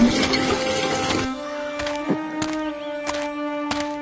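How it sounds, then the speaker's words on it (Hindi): Water pouring at a public water stand as a woman fills a basket, a steady rushing stream that cuts off, followed by scattered knocks and tones in a cartoon scene. "जहाँ एक औरत अपनी टोकनी में पानी भर रही होती है"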